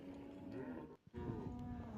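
A native cow at a cattle market gives a long, droning moo, briefly broken by a short pause before resuming, close and clear.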